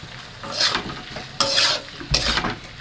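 A spatula stirs sizzling food in a wok with soy sauce and vinegar, giving several scraping, clattering strokes over a soft background fizz, close and fairly loud, no talking.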